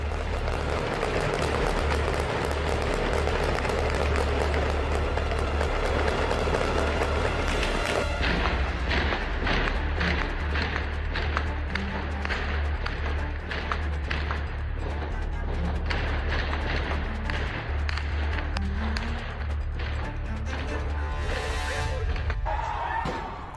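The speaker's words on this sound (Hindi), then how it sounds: "प्रदर्शनकारियों पर खमेनी की फोर्स गोलियां चला रही है।" Gunfire rings out at protesters in Tehran, a long run of sharp repeated cracks and booms, some in quick bursts, over loud crowd noise and shouting.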